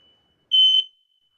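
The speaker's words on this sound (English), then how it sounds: "Is that a fire alarm?" A smoke alarm set off by cooking sounds one loud, shrill electronic tone lasting about a third of a second, with silence on either side.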